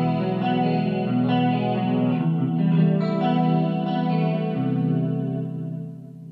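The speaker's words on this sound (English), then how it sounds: "You can take that and kick it up and get more of a drastic chorus." An electric guitar played through an Eventide ModFactor pedal set to a deep, drastic chorus, with thick shimmering chords ringing out steadily for several seconds before fading.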